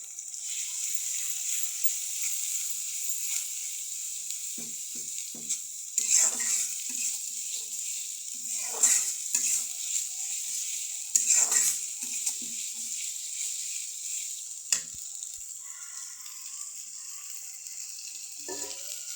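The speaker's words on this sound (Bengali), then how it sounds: "আমি হালকা ভাজায় মশলাগুলো ঢেলে দিব।" Ground spices poured over lightly fried onions in hot oil, a steady high sizzle with scraping stirs and occasional louder bursts as the pan is worked, no talking.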